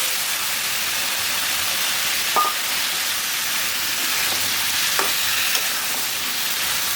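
Ridge gourd pieces fry in hot oil in a home kitchen pan, giving a steady close sizzle with a few light clinks and scrapes of a spatula stirring, no talking.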